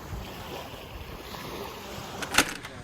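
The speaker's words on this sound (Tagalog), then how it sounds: "Ang sarap ng tunog ng tubig." Water lapping and waves washing at Baingad Lagoon Beach on Bantayan, a steady soft wash with wind noise on the microphone and one brief louder splash near the end; no talking.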